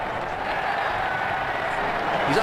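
Steady crowd applause and cheering from a cricket video game, Ashes Cricket 2009, a continuous broadband wash of clapping held at an even level for the whole stretch.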